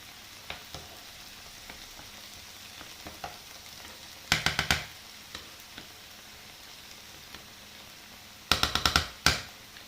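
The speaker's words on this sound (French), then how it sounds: "Juste pour faire suer les champignons." Mushrooms sweat in a frying pan for a croissant filling with bacon and Comté, making a soft steady sizzle. Two short clusters of sharp crackles and stirring clatter break through.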